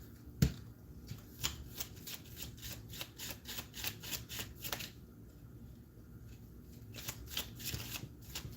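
Tarot cards being shuffled and drawn onto a table, a run of quiet, close riffling flicks and snaps in quick irregular succession, faint and without talk.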